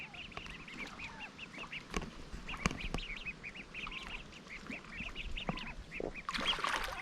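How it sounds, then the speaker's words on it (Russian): Ducks on the Gulf of Finland shore quack repeatedly in short, nasal calls at close range, with several birds overlapping in irregular bursts over outdoor background noise. "Смотрите, уточки, уточки."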